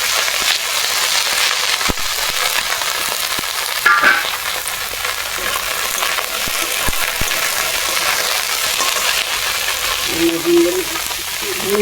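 Potatoes and pointed gourd fry in oil with a constant crackling sizzle, broken by occasional sharp pops and clicks from stirring, and a faint voice briefly in the background.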